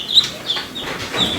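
A backyard chicken clucks close by in a few short, bright bursts, clear and fairly loud with little else around.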